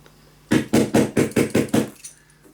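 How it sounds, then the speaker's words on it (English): A hammer strikes seven quick, evenly spaced blows on a scrapbook suitcase and mini album craft project, close and loud, each hit a sharp knock before the room falls quiet. "I'm gonna grab my hammer."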